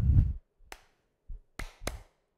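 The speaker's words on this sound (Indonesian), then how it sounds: "Tepuk semangat yang kedua." Children's Sunday school class performing a 'tepuk semangat' clap routine: a few separate sharp claps and taps spaced unevenly, moderately close, with no talking.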